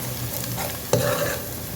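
Curry powder stirred into softened onions frying for a fish curry, a close sizzle with one sharp scrape of a spoon in the pan partway through.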